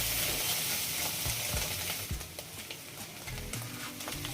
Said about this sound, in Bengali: ডিমগুলো হালকা ভাজা হয়ে গেলে সবজির সাথে মিক্স করে নিচ্ছি